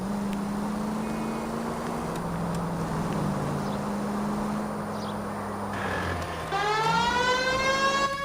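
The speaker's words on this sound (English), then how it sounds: "Okay, I really don't need my siren." In the video game L.A. Noire, a wailing police siren sweeps up and down over loud engine rumble, then shifts to a rapid, higher yelping pattern near the end.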